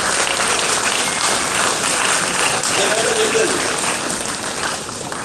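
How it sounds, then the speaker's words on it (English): A large audience claps steadily throughout a talk event, a dense, continuous wash of applause with some voices underneath. "Can you just do a big round of applause for yourself?"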